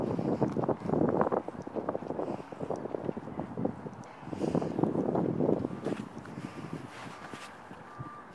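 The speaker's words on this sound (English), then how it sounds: "It's a bit blowy, but it's dry." Gusty wind buffets the microphone outdoors on a dry day near the Titanic museum in Belfast, a loud rumbling rush in uneven surges that eases off toward the end.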